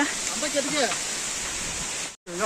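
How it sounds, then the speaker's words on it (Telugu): Katiki waterfall at Araku roars as a steady, dense wash of falling water, loud and continuous, with a voice speaking faintly over it before a brief cut. "వాటర్ ఫాల్స్ అయితే చాలా వాటర్ ఎక్కువ వస్తుంది"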